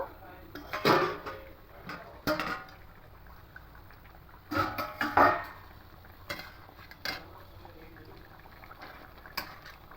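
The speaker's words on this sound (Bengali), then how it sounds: "এবার ঢাকাটা খুলে নেব" A metal pot lid is lifted off a simmering egg omelette curry with potatoes, giving several close, sharp clanks and clatters spaced apart over a quiet kitchen background.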